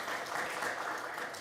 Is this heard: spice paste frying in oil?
no